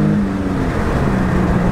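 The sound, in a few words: Infiniti G37 S Coupe accelerating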